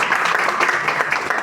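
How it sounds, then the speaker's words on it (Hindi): Audience applauding for a young girl at a health talk, a steady dense patter of many hands clapping throughout the short burst. "ताली मारो बच्ची के लिए"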